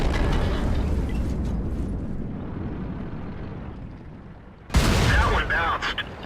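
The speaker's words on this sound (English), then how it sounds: "There's another heat shell from the IS4." HEAT tank shells in World of Tanks boom and rumble in the distance, then a sudden loud, close cannon blast erupts near the end with a crackling tail, under a narrator's talk.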